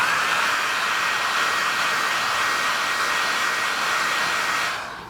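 Hot-air blower heating vinyl wrap on a Tesla Model 3 aero wheel, a loud steady rushing hiss that holds for nearly five seconds before tapering off at the end, with no voices.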